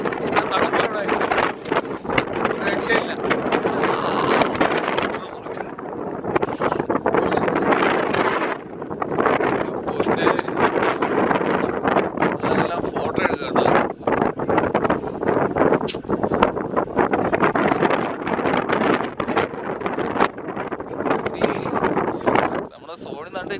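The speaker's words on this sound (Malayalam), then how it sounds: "എന്ന കാറ്റാ" Strong wind at Parunthumpara, Idukki, roars steadily into the microphone for the whole stretch, a constant heavy buffeting with brief gusty surges and no pauses.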